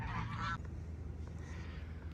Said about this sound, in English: These geese are not helping anything,